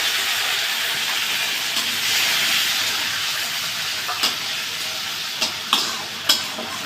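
Spice paste frying in hot oil, with fried pieces already in the pan, for a cabbage fritter curry: a steady close sizzle and hiss with several sharp scrapes and clinks of stirring toward the end, no talking.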